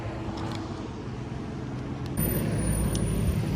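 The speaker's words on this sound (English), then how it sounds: "oh, the loud ass truck" A loud truck rumbles past nearby, its low roar swelling toward the end with a high whine, against steady road noise.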